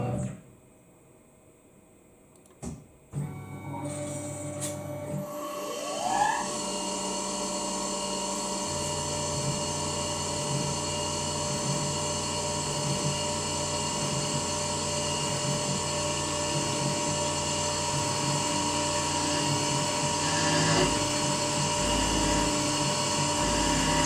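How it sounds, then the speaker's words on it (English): A Tormach CNC mill with a 4th axis spins up and cuts with a slot drill, counterboring for a cap screw: a steady high whine with pulsing low cutting tones after a few clicks and a rising spindle start. "the next tool change is a slot drill to counterbore for the cap screw"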